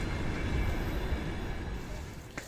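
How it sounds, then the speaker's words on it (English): Steady low rumble and rattle of a long-distance train ride through remote Russia near Shimanovsk, a continuous close rolling drone with faint rhythmic clatter and a brief knock near the end. "We've been on the train for about 12 hours."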